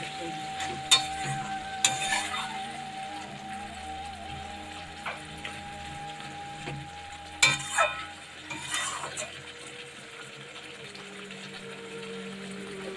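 Bottle gourd (lau) sizzles gently in a pan over a gas flame, a soft steady frying hiss with a few louder clatters of stirring, moderately quiet and close.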